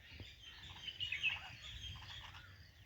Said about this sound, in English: these nightingales are angry